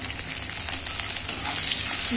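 Okra frying in a pan with salt and turmeric, a steady bright sizzle with soft scraping stirs, close and continuous without talk.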